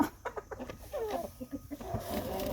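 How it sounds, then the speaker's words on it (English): Chickens in a layer flock cluck in a close series of short, uneven calls, with a softer scratchy background of more birds behind them. "I like these chickens. They're very nice."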